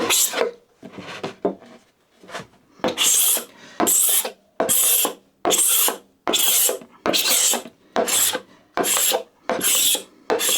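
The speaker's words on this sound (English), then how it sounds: "the cabinet scraper removed the finish off there in fairly quick succession" A cabinet scraper strips an old film finish off a piece of pine in a series of rhythmic, rasping strokes, about a dozen close and loud scrapes with short pauses between them.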